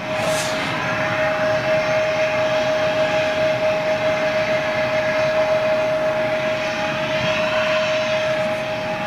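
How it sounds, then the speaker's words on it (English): A small Embraer jet with CFM engines taking off, a loud, steady roar with a high whine holding throughout and no break, heard from close by at an airport in Manchester with no voices over it. "We'll wait for this uh, little Embraer to go out"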